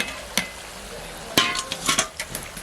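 Homemade samosas deep-frying in hot oil, a faint sizzle with a few sharp clinks and scrapes of a utensil against the pan.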